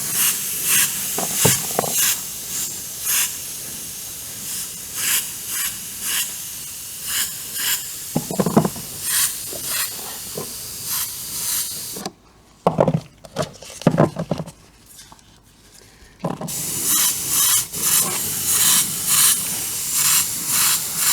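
Airbrush compressor running while a 1/48 scale Timberwolf model is painted, a steady airy hiss pulsing in regular short puffs, dropping away for a few seconds midway before resuming close and continuous.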